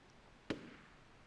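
A single sharp gunshot-like bang cracks out midway in the PS2 video game Shadow of Destiny, fairly faint, with a short fading tail and no voices around it.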